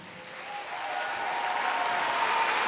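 Applause in a middle school assembly builds gradually from soft to fuller clapping, a diffuse wash of many hands in a large room, with a faint tonal hum running beneath.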